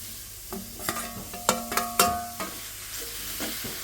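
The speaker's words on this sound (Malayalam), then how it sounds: "ആ പൊടികളിലെ പച്ചമണം മാറുന്ന വരെ ഒന്ന് ഇളക്കി കൊടുക്കണേ" Spice powders sizzle in hot oil in a pan as a spoon stirs them, giving a steady frying hiss broken by several sharp scraping strokes, close and without talk.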